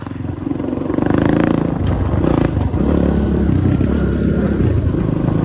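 A 250 CRZ dirt bike accelerates nearby, its engine buzzing loud and steady with a rising rev and rattly mechanical texture throughout.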